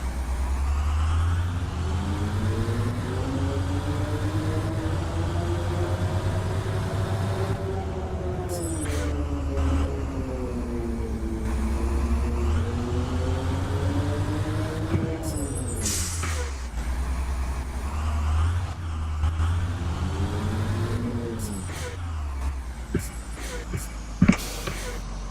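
Bus engine in the Rigs of Rods video game, heard from outside as the vehicle drives North Syracuse area roads: a steady low drone with rising and falling revs, air-brake hisses and a few sharp clicks near the end.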